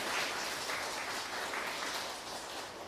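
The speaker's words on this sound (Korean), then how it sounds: "우리 옆에 있는 분들 박수로 환영하겠습니다." A church congregation at an Easter Sunday service in Darmstadt claps in welcome, a soft, steady wash of applause heard from a distance that thins slightly near the end.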